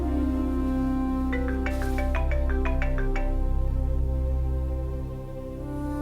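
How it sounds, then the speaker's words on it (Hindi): A mobile phone ringtone plays a short melodic run of bright tones over a steady low hum, then falls quiet, with no voices heard. "इस फोन को उठा ले"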